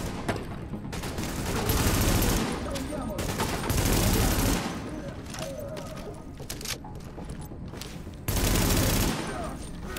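Enemy gunfire in The Division video game crackles in repeated rapid bursts, loud and near, broken by short quieter gaps, with faint speech now and then beneath the shooting.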